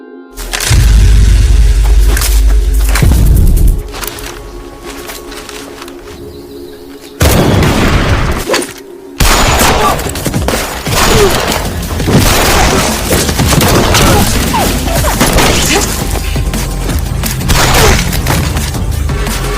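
Gunfire in a film battle scene: heavy booms and dense bursts of shots, loud and close, broken by short quiet gaps, with no speech.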